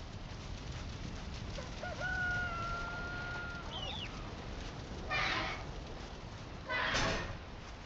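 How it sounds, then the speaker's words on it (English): Chickens in the video game Valheim, with a clear crowing call around two to four seconds and two brief noisy bursts later, all over a steady low background hum. "So we've got 2 chickens, a bunch of chicklets, and my base couple."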